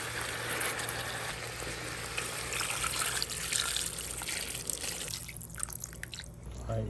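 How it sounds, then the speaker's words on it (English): Water is poured into a cooking pot holding wild pig meat at an outdoor camp, a steady close splashing trickle that tapers off near the end, with no speech. "We're gonna go ahead and cover it with water."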